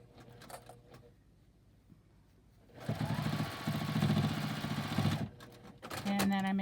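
Sewing machine stitching the seam of a fabric face mask with a filter pocket: a steady rapid mechanical whir runs for about two and a half seconds, close and moderately loud, with quiet handling sounds around it.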